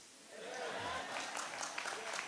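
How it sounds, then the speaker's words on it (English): An audience at an anniversary gala and awards ceremony breaks into steady applause that swells and keeps going, with a few sharper claps above the sustained clapping. "I also want to ask you to give another round of applause for the dress"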